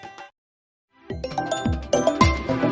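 A phone rings in a rural Indian home with a bright jingling ringtone, repeated chiming tones starting after a brief silence and holding steady and fairly loud.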